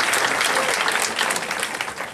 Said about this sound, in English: And a big round of applause to Paula.